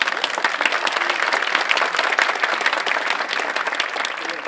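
Audience applause at a Tire Municipality Conservatory classical Turkish music choir concert, a sustained, dense burst of many hands clapping in a hall, even and loud, without voices.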